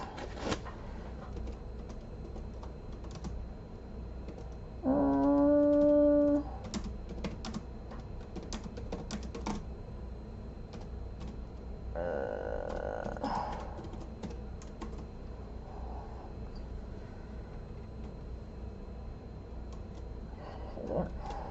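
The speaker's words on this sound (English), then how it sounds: "I don't want to type on the actual laptop keyboard with gloves on, but I can do this." Typing by gloved hands on a keyboard beside a laptop: faint, soft, irregular key clicks, with a short electronic tone and a few louder bursts of noise in between.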